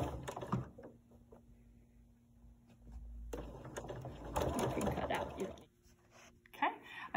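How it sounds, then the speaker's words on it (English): A sewing machine runs stitching a 1/4 inch seam, a steady mechanical whir for a few seconds amid softer handling sounds, with a voice speaking in places. "So just going to get started here and sew my 1/4 inch seam."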